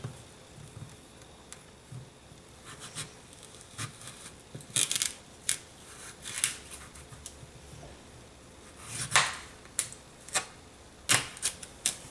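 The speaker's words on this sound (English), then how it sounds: "What I like to do is cut this up into little pieces, put it in the pot as you'll see." Knife chopping butternut squash into small pieces for a breakfast dish, with irregular sharp taps against a cutting board that come close and fairly loud, bunched into brief bursts separated by pauses.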